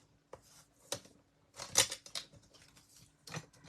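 Scissors snipping cardstock while trimming a Valentine's card, a few sharp, separate cuts spaced irregularly, close and fairly quiet with pauses between them.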